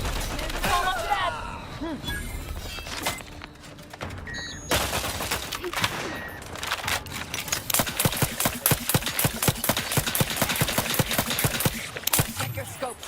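Sustained gunfire in The Outer Worlds 2, rapid close bursts of automatic shots crackling in a dense, steady rhythm that grows busier toward the end, with voices speaking over the fight.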